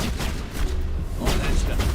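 A grenade goes off in Mass Effect combat, giving dense, rumbling booms and crackling blasts that fill the short moment at loud, close range.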